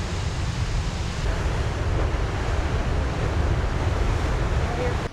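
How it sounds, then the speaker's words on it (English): Surf crashes against rocks below a coastal bluff on the Mendocino coast, a loud, continuous roar of breaking waves with heavy wind buffeting, with no talking. "The crash of the surf against the rocks"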